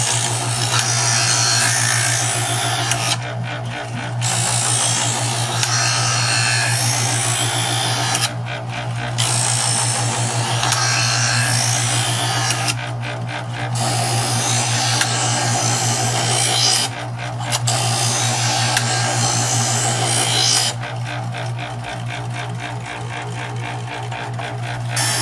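The Chef'sChoice 120 Diamond Hone electric knife sharpener runs loud and steady with a constant motor hum in its final polishing stage, overlaid by a gritty rasp as the blade is drawn through, with brief breaks between pulls.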